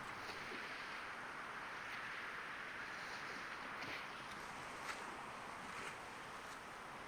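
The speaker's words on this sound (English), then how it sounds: "Sounds like the wind is picking up." Steady wind rushing over open water while sailing at sea in the historical sailing sim Sailwind, a broad continuous hiss with faint wave wash and no voices.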